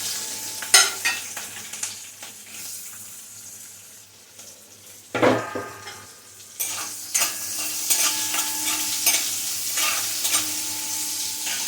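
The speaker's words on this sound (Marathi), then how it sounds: "मिरच्या आणि हा कांदा जरा आपण यादी परतून घेऊया" Onion and green chilies sautéing in a pan for a potato dish, a sizzle marked by scattered utensil scrapes and one louder knock midway, then a fuller, steadier frying hiss.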